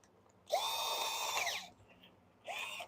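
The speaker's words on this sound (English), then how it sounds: "Since we're gonna be drilling." A power drill whirs in a shop in two bursts, the first long with its pitch winding up then down, the second shorter after a pause, loud and close.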